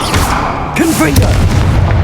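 A Confringo fire spell blast in Hogwarts Legacy, heard as a loud booming burst amid busy game sounds, with a short whooshing tail and ongoing rumble beneath.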